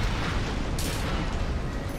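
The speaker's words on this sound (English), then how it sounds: "Imagine how big that explosion is in real life." A sustained, heavy explosion roar from the Armored Core VI: Fires of Rubicon video game fills the moment, a dense, loud rumble with no break.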